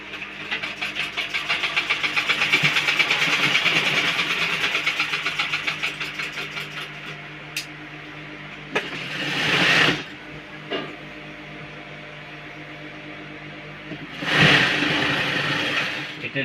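A sewing machine stitches a seam in fabric, its motor running in a fast, even rattling run for several seconds before falling quiet, followed by a few short separate bursts of stitching nearby.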